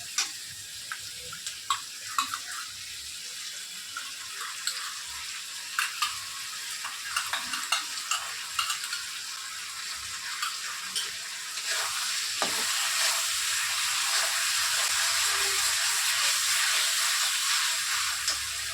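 Chilli chicken sautéing in a pan with green chillies and chilli sauce gives a steady close sizzle and hiss, with scattered stirring scrapes, swelling louder and denser in the second half.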